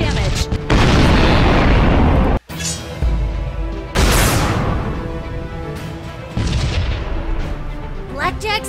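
Cannons firing in the Sunrider space battle video game: several heavy booming blasts in quick succession, each with a long rumbling tail, loud and close with brief gaps between volleys.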